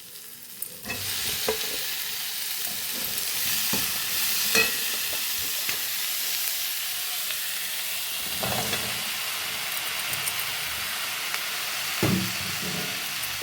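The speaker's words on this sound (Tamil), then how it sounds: "இப்போ தாளிப்பு போட்டு இந்த சின்ன வெங்காயம் இஞ்சி பூண்டு போட்டு வதக்கிட்டுருக்குன்னா" Shallots, ginger and garlic sizzle steadily in hot oil in a pan, a continuous close frying hiss broken by occasional scrapes and stirs.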